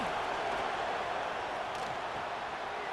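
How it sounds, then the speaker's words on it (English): A college football stadium crowd at a road game keeps up a steady, dense roar of cheering and noise, heard from a distance without clear peaks. "Listen to the crowd energy here in the early going."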